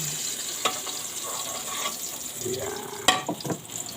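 Garlic and leftover rice hitting oil in a pan that was just used to fry dried fish, with steady sizzling, a few scraping stirs and a clink, and a brief spoken word.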